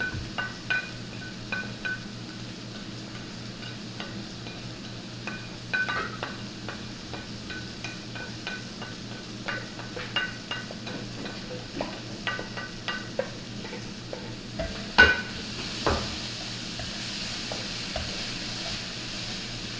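A sweet and spicy chilli shrimp sauce with brown sugar, Worcestershire sauce and cilantro cooks in a pan. A steady low sizzle runs under frequent scraping and tapping from stirring, with one sharper clatter near the end.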